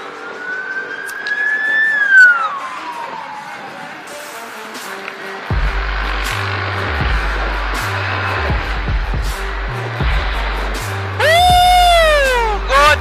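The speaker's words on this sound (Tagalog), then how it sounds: "Ambulansya guys." An ambulance siren sweeps up and down as it passes on a road, loud and near, alongside a rumbling motorcycle engine and traffic, with a second siren burst near the end.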